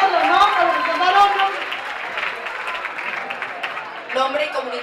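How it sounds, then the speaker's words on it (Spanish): Audience applause for regional representatives at the Festival de las Comunidades in Antequera: steady, fairly loud clapping mixed with crowd voices and tonal sound, easing slightly midway and swelling again near the end. "Estamos con un fuerte aplauso para nuestros representantes"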